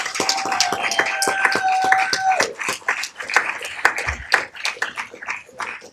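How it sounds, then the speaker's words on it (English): A city council meeting audience claps for a championship high school cheer team, with scattered individual claps and light taps over a faint held tone, fairly close and loosening toward the end. "Give them a round of applause."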